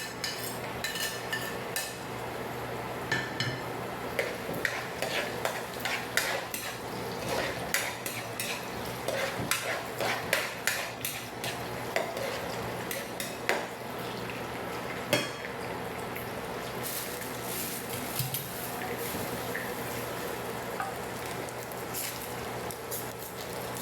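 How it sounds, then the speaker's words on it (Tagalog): Garlic and onion sautéing in a pan while being stirred, a continuous sizzle broken by frequent sharp clinks and scrapes of a utensil against the pan, close and steady throughout, without talking. "So magigisa na tayo ng bawang at sibuyas guys."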